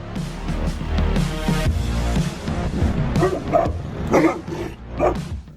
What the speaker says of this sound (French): Le matin napolitain est considéré comme un chien calme et compatissant.